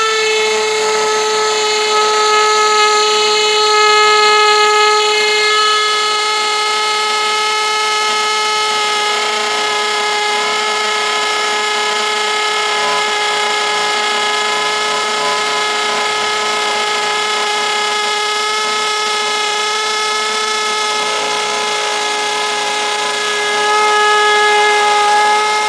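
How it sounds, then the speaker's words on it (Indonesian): A DongCheng DCJZ2040 cordless impact drill on a 4Ah battery runs steadily at speed 2 in impact mode, giving a loud, sustained whine with strong harmonic tones that lasts the whole stretch and swells slightly near the start and end. "Impact drill DCJZ 2040."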